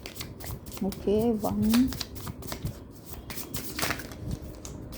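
Tarot cards are shuffled and laid out during a reading, with brisk riffling and soft card flicks heard up close while someone speaks throughout.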